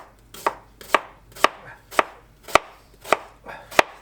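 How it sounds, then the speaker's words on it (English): Knife chopping onions on a cutting board, eight crisp, evenly spaced chops about half a second apart, close and clear with no talking. "As far as chopping them, I just don't bother doing anything super fine."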